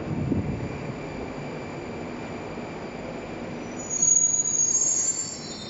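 A Moscow metro train on the Butovskaya line pulls away with steady rolling rumble and a high wheel squeal rising near the end, close and fairly loud, with no talking.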